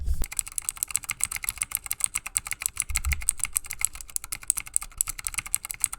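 Rapid, steady typing on a wireless membrane keyboard bundled with a Currys PC World prebuilt computer, soft close clicks continuing for several seconds with no talking.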